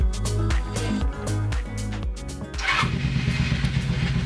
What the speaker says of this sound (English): now the bike is running and idling perfectly